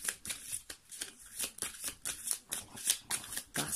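A deck of oracle cards is shuffled for a reading, making a quick, rhythmic series of close papery riffles and slaps.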